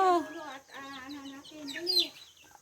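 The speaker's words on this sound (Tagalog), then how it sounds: "nagpapakain ng manok dito" Chickens cluck and squawk in a busy flurry while being fed, close by, with a few higher calls rising near the end.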